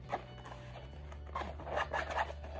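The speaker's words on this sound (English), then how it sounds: "But it does have a zipper on this side." Zipper on a Marc Jacobs Traveler tote bag being pulled open along one side, a quiet scraping zip with a couple of short pulls, close up and without talk.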